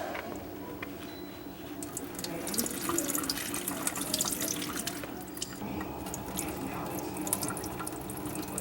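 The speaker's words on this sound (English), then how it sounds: "you want to just go ahead and drain all the water out of your fries" Water pours and splashes steadily into a sink as it is drained from soaked potato fries, a continuous running, trickling wash with a few louder gushes partway through.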